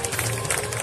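Brief burst of dense audience applause at a kung fu festival show, steady clapping from a crowd throughout with a faint murmur of voices mixed in.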